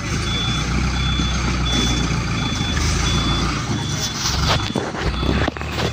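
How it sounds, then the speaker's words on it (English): Sand-laden truck reversing at a construction site, steady evenly spaced reversing beeps over a loud rumbling engine, with people talking nearby. "So it's a truck full of sand"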